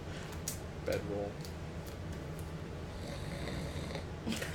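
A tabletop role-playing player voices a character's snoring, a voice imitating a few drawn-out snores amid casual chatter around the table.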